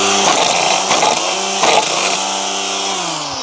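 A DeWalt 20V Max battery string trimmer runs with freshly restrung line, a loud, close, steady whine that dips slightly as it winds down at the end, with no talk.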